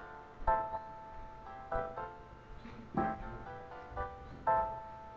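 Digitally produced tones replicating a frequency analysed from human cytochrome, heard as a series of soft, evenly spaced chiming pulses, about one each second, faint and ringing with harmonic overtones.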